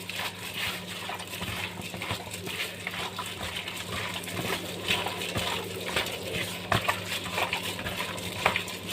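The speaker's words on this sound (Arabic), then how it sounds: "هقلب طبعا كله في بعضه كده." Chicken shish tawook is stirred with sauce in a tray, giving soft wet squelching and scraping close by, steady and fairly quiet, with a few sharper clinks of the utensil against the tray.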